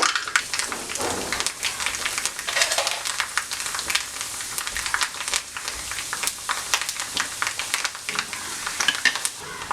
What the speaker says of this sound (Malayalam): എണ്ണ ചൂടായി വന്നിട്ടുണ്ട് അതിലേക്ക് അര ടീസ്പൂൺ കടുക് ഇട്ട് കൊടുക്കാം